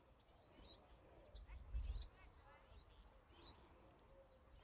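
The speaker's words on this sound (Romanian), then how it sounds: "Ascultați minunatele păsărici." Small birds chirp and sing outdoors in three short bright bursts spread over a few seconds, fairly near, with a soft quiet background between the calls.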